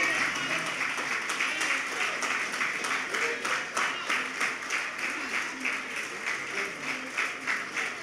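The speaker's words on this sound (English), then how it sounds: "Please keep the applause coming." A luncheon audience at an annual general meeting and lecture keeps up warm applause, with dense clapping that swells in slight waves while faint voices murmur underneath.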